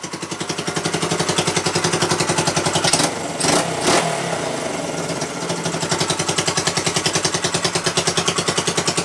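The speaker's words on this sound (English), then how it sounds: "yeah, bike's running great." A Honda CB125 motorcycle engine runs loud and close, rebuilt from parts, with a steady chugging idle and a brief blip of revs partway through, then settling back to an even throb.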